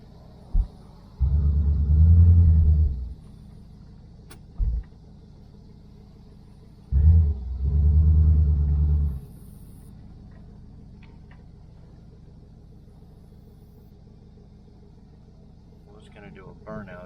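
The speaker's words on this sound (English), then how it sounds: "Traffic coming from this dead end" Two vehicles roll past on a dead-end road, each a low rumbling swell lasting a couple of seconds, near and fairly loud, separated by quiet, with faint background hum afterward.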